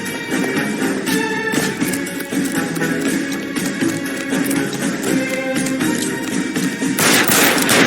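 Rapid gunfire from a shootout in the crime game L.A. Noire, loud dense bursts with crashes running under tense music, swelling louder near the end.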